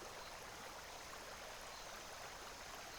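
Gentle river stream in Costa Rica, a steady, even wash of flowing water that stays unchanged throughout, soft and continuous with no voices.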